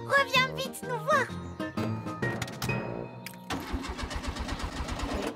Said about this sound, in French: la voiture ne démarre pas